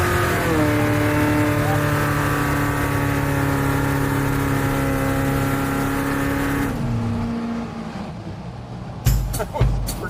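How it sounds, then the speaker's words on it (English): A 600-horsepower big-block C10 truck holds a loud sustained roar at steady high revs during a burnout, then drops off, followed by a few heavy thumps and bangs near the end; a voice can be heard over it. "Let's burn some rubber."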